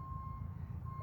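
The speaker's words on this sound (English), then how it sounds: "I just heard a backup alarm." A construction machine's backup alarm sounds faintly in the distance, a thin steady beeping tone carried over a low rumbling background hum with no talking.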